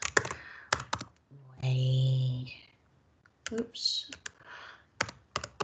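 Python code being typed on a computer keyboard in quick, close clusters of key clicks, broken by a short spoken remark and a brief hum in the middle.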